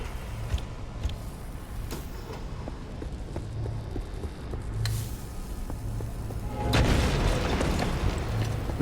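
A loud in-game explosion bursts in the Pacific Drive video game after a stretch of low rumbling ambience, its broad blast rolling on as the noise stays raised to the end.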